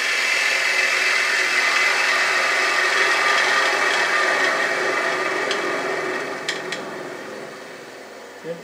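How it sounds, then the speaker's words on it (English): A 3/8 bore bowl gouge taking a fine finishing cut on a spinning wooden bowl on a lathe, a steady high-pitched hiss and whir that fades toward the end with a few light ticks, no talking. "you can pick up the cut with your 3/8 bore gouge there. Take a very fine cut off"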